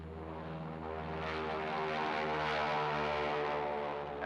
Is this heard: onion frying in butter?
no